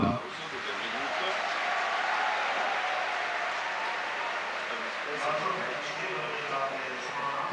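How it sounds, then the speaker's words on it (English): Steady applause from a debate audience welcoming a speaker, a broad continuous patter of many hands at moderate level, sustained evenly for several seconds. "give him a round of applause in welcome"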